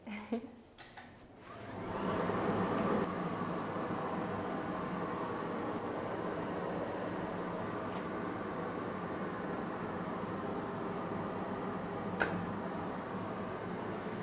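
A screen printing vacuum table kicks on after a couple of seconds, then holds a steady, loud whooshing drone with no break for the rest of the stretch.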